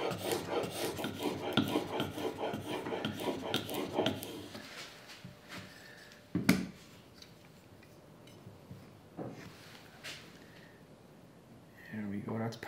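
A hand plane blade in a honing guide being pushed back and forth over a sharpening stone, a rhythmic close rasping scrape for several seconds, then scattered rubs and taps with a person talking over it.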